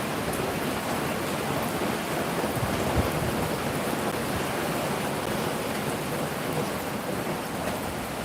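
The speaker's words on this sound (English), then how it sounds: "It's about the meanest looking part of the storm right there." A thunderstorm pours rain, with thunder rumbling under a steady, dense hiss of rainfall that holds evenly throughout, with no voices.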